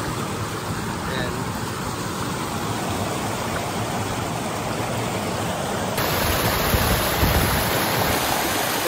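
Flowing stream current at Talon Pari Falls in Doña Remedios Trinidad, Bulacan, a steady broadband rush of water that holds even throughout and grows slightly louder partway through.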